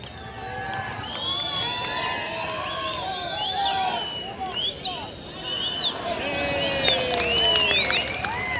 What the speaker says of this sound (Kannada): ಚಪ್ಪಾಳೆ ಚಪ್ಪಾಳೆ ಬರ್ಲಿ, ಜೋರಾದ ಚಪ್ಪಾಳೆ ಬರ್ಲಿ